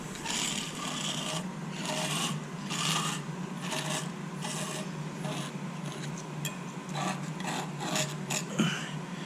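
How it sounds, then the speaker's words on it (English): Rhythmic scraping strokes across a wooden 2x3 as a line is scribed into it, steady rasping rubs repeating about every half second, close up with no talking. "So what I'm doing is I'm just scribing a line,"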